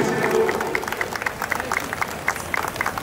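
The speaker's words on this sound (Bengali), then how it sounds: "প্রত্যেকের কাছ থেকে একটা জোরে হাততালি চেয়ে নেব" An audience claps at an award ceremony during a live concert in Medinipur, making a steady, fairly loud patter of many hands that carries on for several seconds over a busy crowd background.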